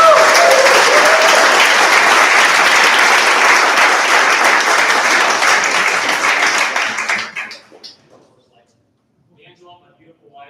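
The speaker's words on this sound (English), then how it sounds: "Be ready to round of applause." Audience at a university fraternity Founders Day event giving a loud, dense round of applause for about seven seconds before it dies away into near silence with a faint voice after.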